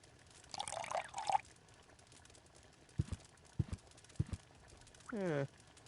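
Used oil poured out in a video game, a short gurgling liquid pour near the end after a few sparse clops and splashes, with no talk over it.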